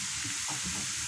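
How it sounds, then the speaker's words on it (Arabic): Onion frying in a pan with oil, a steady close sizzle and crackle filling the short stretch, with faint stirring movement underneath and no talk. "البصلة هاهي راه تقلات"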